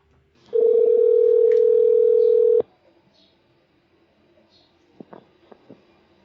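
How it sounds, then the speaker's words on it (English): A telephone line being dialed: a steady dial tone holds for about two seconds then cuts off, followed by a few faint, brief clicks and tones in near silence. "Dialing Paul Shippee"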